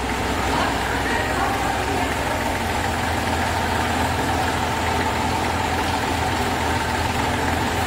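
A Massey Ferguson 35 tractor with four new tyres idles at close range in Meerut, a steady loud diesel chug rumbling continuously with no break, while voices talk nearby.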